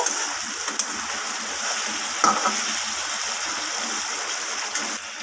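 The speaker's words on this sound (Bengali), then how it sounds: "এরপর আমি কচুলতিটাকে ভালোভাবে একটু জলের সাথে ফুটতে দেব" Taro stolons boil in water in a pot, giving a steady, close bubbling hiss that runs without pause for about five seconds, with no talk.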